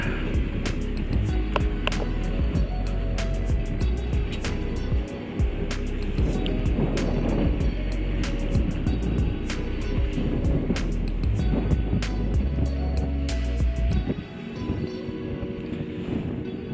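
Boat riding at anchor off Dominica, with steady water wash and waves slapping the hull, frequent sharp knocks and clatters over a continuous low rumble.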